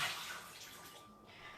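Tap water runs steadily over kelp noodles being rinsed for a vegan instant cup-of-soup, a close, continuous splashing wash with no talk.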